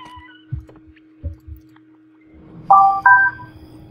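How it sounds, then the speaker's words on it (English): A mobile phone sounds a few short tones and two louder, bright beeps near the end. Faint clicks and low sounds run in the background, and no one talks. "Something's making noises in the back."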